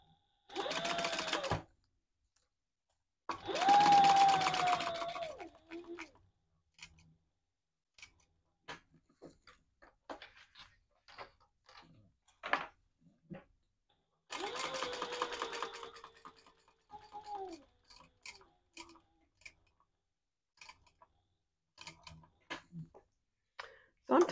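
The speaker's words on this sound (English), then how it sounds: "I'm going to top stitch all the way around here" A sewing machine top stitching a sling strap runs in three loud, close bursts of rapid stitching, separated by quiet stretches of scattered clicks and handling noises.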